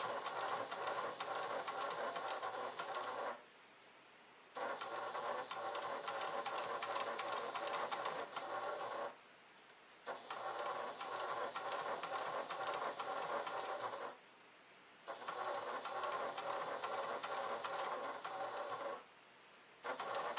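A sewing machine stitches slowly along the edge of a fabric clutch bag in four steady bursts of rapid, even chatter, each separated by a brief quiet pause, close and fairly faint.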